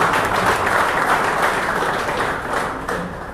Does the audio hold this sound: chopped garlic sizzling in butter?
no